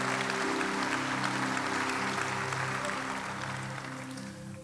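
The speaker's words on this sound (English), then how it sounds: "Let's give them all a good hand clap" Steady applause and hand clapping from a church conference audience, a dense wash of claps held at an even level throughout with faint music tones underneath, easing slightly toward the end.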